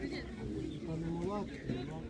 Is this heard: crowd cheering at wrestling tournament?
no